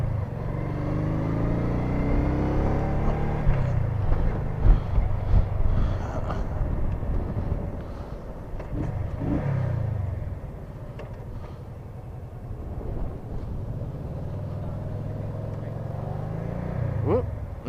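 A Honda PC800 motorcycle engine runs and revs under riding, a low rumbling drone that swells and eases over several seconds with wind noise throughout.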